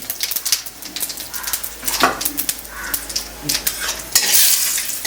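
Cumin seeds sizzle in hot oil as a pan is stirred, with scraping and clinking strokes over a crackling hiss, while birds coo faintly in the background.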